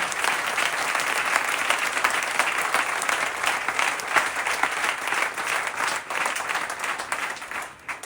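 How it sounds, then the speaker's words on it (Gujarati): Loud, sustained applause from a large temple audience at the 149th Patotsav festival of Vadi Swaminarayan Mandir in Vadodara, dense steady clapping filling the whole stretch with a brief dip near the end. "હવે તાળી પાડો ઉત્સવના નામની એકવાર"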